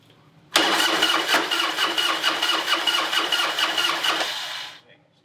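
An old Harley-Davidson motorcycle that had sat for years cranks and turns over with a loud, close, rapid rhythmic chugging that starts abruptly, runs about four seconds, then cuts off.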